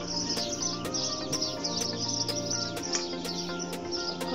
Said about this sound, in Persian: کلی صدای پرنده داریم